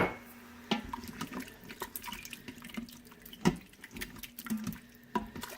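Soy sauce and water being stirred together in a bowl for Instant Pot Mongolian beef, giving soft, irregular liquid sloshes and clinks through a few seconds, close and fairly quiet with no talking.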